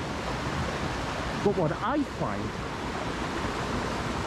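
Silver Creek flows beneath a snowy footbridge with a constant broadband rushing wash, loud and steady, while someone speaks briefly over it.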